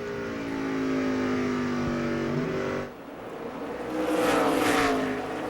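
NASCAR Busch Series stock cars racing at Richmond, engines roaring loud and close, one car's pitch climbing then fading before another surge of revving engines rushes past.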